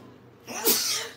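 A single sharp sneeze bursts out after a moment of quiet, close and loud.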